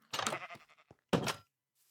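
Sheep bleating in the video game Minecraft: two short bursts of bleating, the first longer and wavering, then a brief pause and a second clear bleat, close and fairly loud with no talk.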